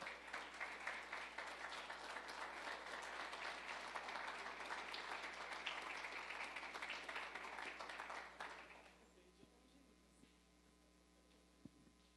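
An audience applauds a lawyer being introduced at an entrepreneurship event, a steady crowd of clapping that runs for about eight seconds and then fades into a quiet room with a few faint ticks.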